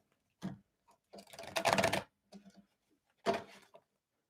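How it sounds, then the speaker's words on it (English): Tarot cards shuffled by hand at close range, a few quick riffling bursts separated by short pauses, fairly soft with no talking. "I want a good shuffle for you guys, like a really good shuffle."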